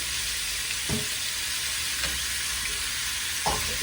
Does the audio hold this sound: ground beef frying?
yes